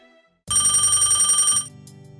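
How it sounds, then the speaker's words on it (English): A telephone rings with an incoming call, one bright electronic ring burst lasting about a second, loud and close, with no talking. "I got another phone call from the same number as earlier"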